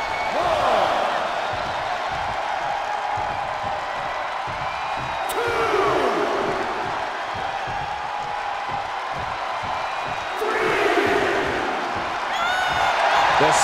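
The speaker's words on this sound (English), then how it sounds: "The sound of this crowd is deafening, and he's asking for more" Roaring arena crowd at a virtual wrestling match in WWE 2K23, a steady wall of cheers with louder surges around the sixth and eleventh seconds, heard under a commentator's voice.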